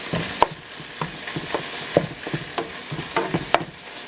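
Ground beef browns in olive oil in a pan for lasagna, a steady close sizzle with spoon scrapes and clicks against the pan at irregular intervals.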